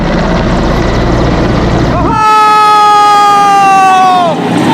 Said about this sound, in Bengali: এই দিক দিয়ে সেই হেলিকপ্টারটা আসবে